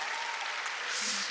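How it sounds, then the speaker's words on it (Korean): Church congregation applauding at a Korean worship service after a university choir's praise performance, a dense, steady wash of clapping across the whole moment, fairly quiet and with some crowd murmur mixed in. "우리 너무 수고한 우리 유다 공동체와 우리 과여에게 큰 박수로 하나님께 영광, 또 고생했다고 박수 한번."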